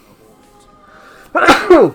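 A single loud, close sneeze bursts out abruptly in two sharp parts right after a few quiet spoken words, followed by a brief fade.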